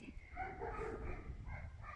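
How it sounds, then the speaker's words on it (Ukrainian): Several dogs bark together outdoors on a sunny February day in a Ukrainian village, the yips and barks overlapping in a steady noisy run at moderate distance. "Куча собак, ось хто."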